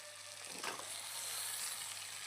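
Onions and grated coconut stir-fried in a pan for a mint dish, a steady soft sizzle with a brief scraping stir near the start, close and continuous with no talk.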